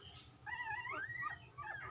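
A dog that has just given birth whimpers in a few rising and falling high whines, close by but quiet, with a low hum underneath and no speech.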